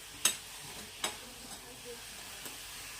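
A spoon stirs mustard greens with salt in a pan, a few sharp scrapes and taps over a faint steady sizzle.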